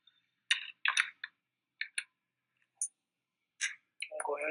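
Keys clicking on a computer keyboard while a command is typed, in short bursts of quick taps with pauses between, fairly close and clear, ending in a denser run of presses.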